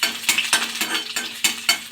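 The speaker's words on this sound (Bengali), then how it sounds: "এবার দিয়েছি রসুন আর আদাটা। এটা একটুখানি ভাজা ভাজা হোক" Chopped garlic and ginger fry in hot ghee with a lively sizzle, broken by repeated scraping and clinking of a spoon stirring the pan, close and fairly loud.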